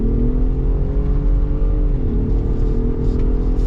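A Ford Raptor truck in two-wheel drive doing a burnout in sand gives a loud, close, steady engine roar with a slight dip in pitch partway through, and no talk over it.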